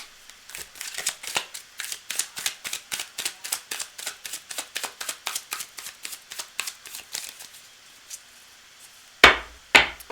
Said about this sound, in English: I'm going to just shuffle these up a little bit.